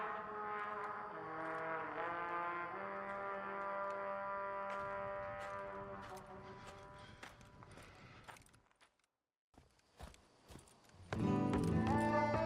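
Horse hooves clip-clop in the Western video game Red Dead Redemption's Undead Nightmare, steady footfalls under a sustained musical drone, falling to near silence before louder low rumbling at the end.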